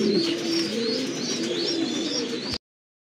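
Racer pigeons at a loft coo steadily and close by, low repeated rolling calls running throughout with a few higher chirps over them, cutting off abruptly near the end.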